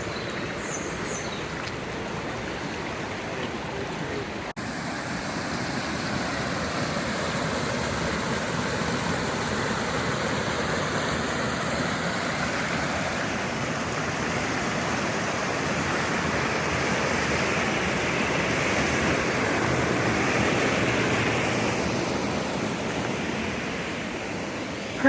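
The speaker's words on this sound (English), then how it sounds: "And there's this famous river here." A famous river in a historical park rushes steadily past rocks, a broad, even roar of flowing water that holds close and loud throughout with no voices.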